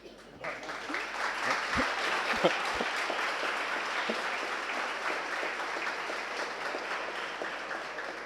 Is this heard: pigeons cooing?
no